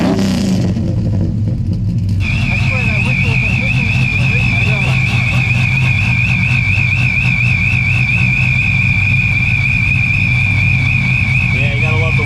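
A custom Chevy C10 squarebody truck's engine lets out a steady, high, slightly warbling whistle that holds for about ten seconds over a loud, constant engine drone.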